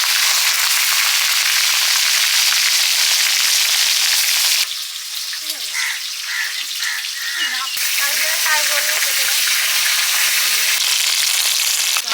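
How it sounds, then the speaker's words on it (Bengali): Loud, steady sizzling of bhangan fish frying in hot oil, with faint crackles and brief background sounds partway through. "বাকি মাছ ভেজে নিচ্ছি"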